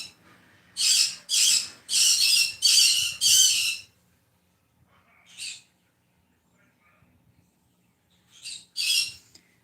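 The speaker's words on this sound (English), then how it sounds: "I may have to bribe the birds." Loud, harsh squawks from pet birds: five rapid calls in a row, then a lone squawk, and two more near the end, close by with quiet between.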